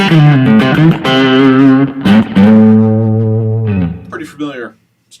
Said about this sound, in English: a little bit of reverb. Here's the neck pickup.